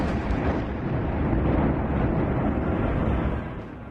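Dull, continuous rumbling blasts from missile attacks across the Gulf region, including Bahrain, roll on loud and broadband for several seconds before easing slightly at the end, with no voices over them.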